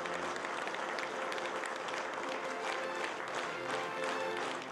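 Parliament deputies give a standing ovation, and dense, sustained applause from a large chamber fills the whole stretch at an even, loud level.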